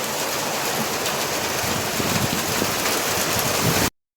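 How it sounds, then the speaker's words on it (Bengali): Dense, steady pelting of large falling hailstones, a continuous loud hiss with scattered hard impacts, cutting off abruptly near the end. "অনেক বছর পর শিলাবৃষ্টি হচ্ছে আমাদের এখানে।"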